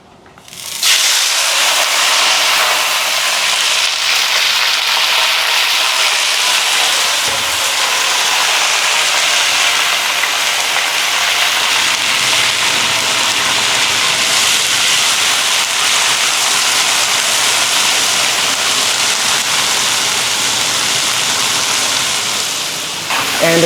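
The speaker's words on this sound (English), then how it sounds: "And stir fry until the skin starts to turn golden and just a little crispy." Green beans stir-fry with peppercorns and dried chili in a hot Chongqing-style wok, making a loud, continuous, close hiss and sizzle that holds steady from start to finish.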